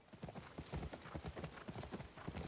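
Horse hooves clip-clop steadily in The Last of Us Part II, a brisk rhythmic run of close, fairly loud hoofbeats on hard ground with no talk over them.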